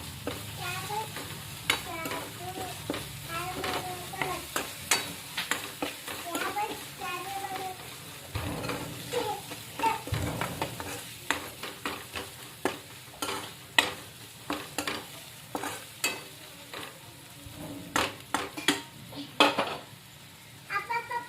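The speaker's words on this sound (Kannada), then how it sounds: "ಇದೊಂದು ಸ್ವಲ್ಪ ಟಮಾಟೆ ಮೆತ್ತಗಾಗತ್ತನ ಮಿಕ್ಸ್ ಮಾಡೋಣ ಇದಕ್ಕೆ" Tomatoes stirred and fried in a pan for a village-style egg curry, a soft sizzle under repeated scraping and clinking of a spoon against the pan, with someone talking throughout.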